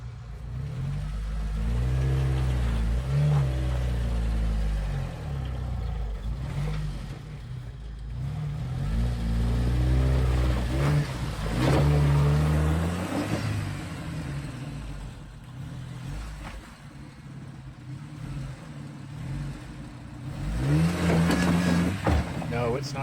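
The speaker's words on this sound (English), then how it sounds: "My Jeep always sounds like that. Lots of clanks and clunks, but it keeps on going." A Jeep on an off-road OHV trail in Colorado revs and labors over rough ground, its engine rising and falling with clanks and clunks, close by, while people talk over it.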